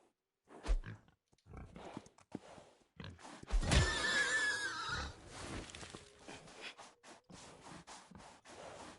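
A horse in a video game lets out a loud whinny midway through, amid thuds, scuffs and scattered game noises, with quieter stretches before and after.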